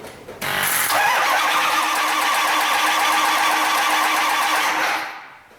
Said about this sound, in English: Alright, so it cranks now.